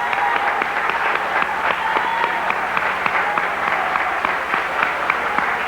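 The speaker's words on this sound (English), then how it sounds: "Let's give these brothers a round of applause for standing that far with us" A crowd gathered in the Slade Theater applauds steadily for several seconds, a sustained, even roar of many hands clapping close up, with no voices rising above it.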